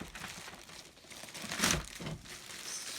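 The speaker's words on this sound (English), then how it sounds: "it's a plastic bag that's stumping the chump here. Okay, it's got a little knot, so I can just rip it open." A knotted plastic bag is crinkled and then ripped open during the unboxing of a Salton Vita Pro food dehydrator, with soft handling rustles and one sharper tearing burst midway.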